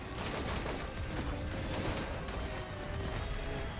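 Dense, continuous rapid gunfire from shooting enemies in the video game Risk of Rain 2, playing as the Bandit, with rattling mechanical clatter layered throughout at steady loudness.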